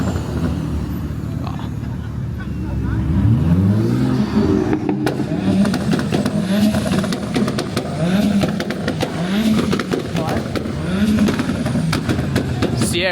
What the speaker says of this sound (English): Sierra's a bit rev happy.